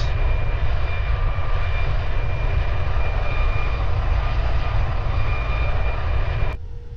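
An Airbus A340's jet engines drone in the Roblox flight game Aeronautica on a charter flight toward landing. The roar is loud, continuous and steady, and it cuts off abruptly near the end.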